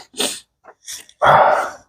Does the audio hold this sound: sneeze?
yes